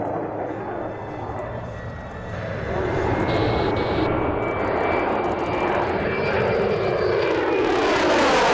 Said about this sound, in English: the first of the fast jet solo demonstrations, the F-35A Lightning II